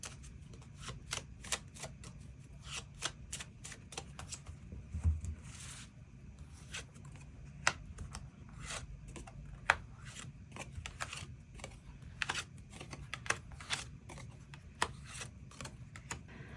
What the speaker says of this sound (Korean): 추가 카드로 일별로 월요일부터 일요일까지 어떤 하루하루를 보내게 될지 추가 카드 뽑아보도록 하겠습니다